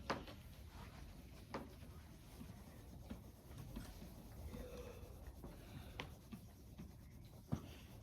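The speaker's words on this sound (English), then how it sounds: "So shade that in with your colored pencil." A colored pencil shades in a decimal-model grid during a math lesson, giving a faint, steady scratching and rubbing across the paper with a few soft taps from the pencil.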